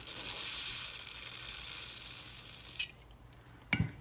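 A steady hissing spray of cleaner from an aerosol can into a 1978 Yamaha XS1100 front brake master cylinder lasts nearly three seconds and then stops, followed by a quick mechanical click.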